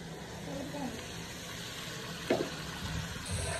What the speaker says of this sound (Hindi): इतना से अंदर पानी डालेंगे